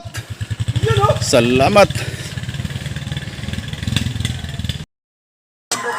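A motorcycle engine runs on a rough, rutted farm road, its low pulsing drone steady and close under a man's spoken words, then cutting out briefly before resuming.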